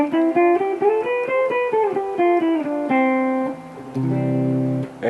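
A guitar plays a C Ionian mode on the second string, single notes stepping up the scale and back down at a steady pace, ringing clearly with no talking.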